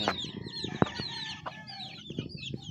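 Small chicks peeping with high, thin repeated calls throughout, a few louder clucks mixed in, close by on a farm where some chicks have died.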